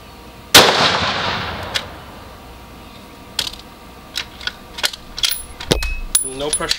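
A 6.5 Creedmoor rifle firing a 130 gr RDF handload cracks once sharply and loudly, trailing a fading echo, followed by scattered metallic clicks and clatter of bolt handling and brass.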